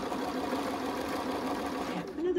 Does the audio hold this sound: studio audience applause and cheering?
no